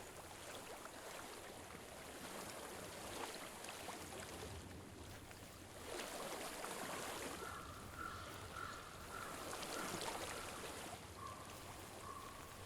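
A flowing water stream in the game Hellblade: Senua's Sacrifice, a steady broadband rush of running water that continues throughout with faint tonal sounds layered in.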